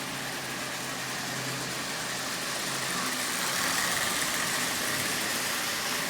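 A small Marx toy locomotive motor, assembled from junk parts, runs with a steady, faint whirring buzz that holds evenly throughout with no talking.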